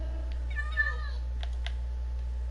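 A single short cat meow rises and falls over a low steady hum in a quiet room, followed by a few faint clicks.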